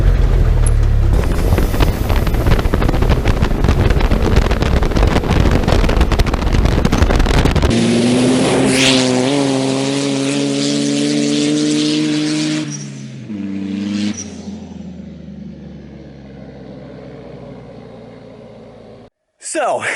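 A turbocharged 1.2-liter Mirage-powered Chinese dune buggy drives hard with loud, rough engine noise and heavy wind buffeting. It then drops to a rising whine that climbs in pitch, fades, and cuts off near the end.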